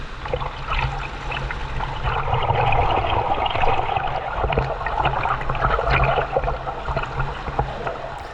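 A shallow river with a strong current at Sua, Malinao, Albay, rushing and trickling steadily nearby, with bubbling, gurgling water throughout and no voices.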